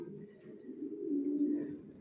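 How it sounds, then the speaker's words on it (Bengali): A pair of adult racing pigeons, a male and a female of an original Johnson long-line racer strain, coo in a steady low rolling murmur that swells toward the middle, close by and alone. "এখানে এক জোড়া নিউ অ্যাডাল কবুতর দেখাচ্ছি"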